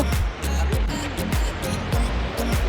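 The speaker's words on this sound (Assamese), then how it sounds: "আমি নদী পালো" A river rushes over large rocks at the Kopili picnic spot, a steady, close broadband wash of flowing water that runs the whole time while a voice talks over it.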